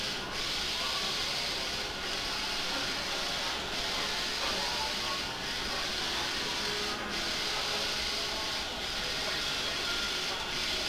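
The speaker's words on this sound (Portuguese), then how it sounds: "as frentes já tá imprimindo, ó. São duas máquinas. Uma tá imprimindo frente" A sublimation printer prints shirt fronts with a steady, loud mechanical whir. The whir dips briefly at regular intervals of under two seconds as the print head sweeps back and forth.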